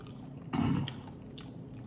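Someone bites into and chews spicy chicken close to the microphone, one firm crunchy bite followed by softer wet chewing and faint clicks, with no talking.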